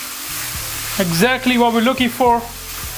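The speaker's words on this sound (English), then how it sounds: "we're gonna brown these mushrooms and remove the excess water" Mushrooms browning in a hot pan beside garlic give off a steady, close sizzle and frying hiss, while someone talks over it and briefly stirs.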